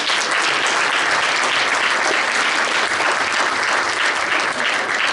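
A debate audience applauds the participants in steady, dense clapping that fills the room at close range and holds strong from start to finish.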